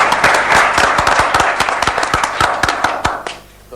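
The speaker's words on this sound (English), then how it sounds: "A round of applause for our volunteer there," A small audience claps for a volunteer at a 1999 technology presentation, distinct close handclaps in a brisk irregular patter that fades out near the end.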